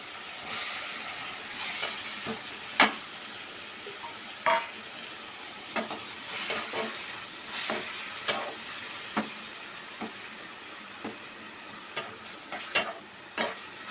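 Onions and tomatoes fry in a pan for street-style kothu parotta, with a continuous hissing sizzle and regular sharp scraping and clinking stirs, close by and without talking.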